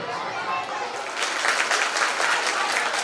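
An audience at a school welcome ceremony at PM Shri Nadej Primary School applauds a district panchayat education committee member. The applause starts as a softer patter and swells into steady, dense clapping from a crowd in the room.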